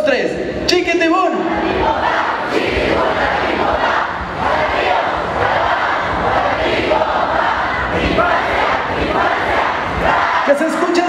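Convention crowd at a Digimon cosplay event in Guatemala roars a sustained, loud group shout and cheer, many voices blending into one continuous dense wall of noise for the whole stretch.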